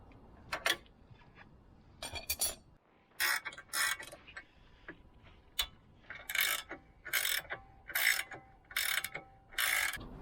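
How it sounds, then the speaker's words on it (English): A ratchet clicks in repeated bursts, close and clear, as the last suspension bolts are tightened on a Tesla Model fitted with MPP spherical bearings; short pauses separate each run of rapid clicks. "So now tightening up the last few bolts."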